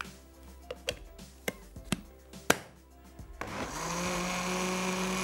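A juicer blender starts up and grinds cooled cooked food at close range, following several sharp taps and clicks as the jar is set in place, then settling into a steady, loud whirring drone.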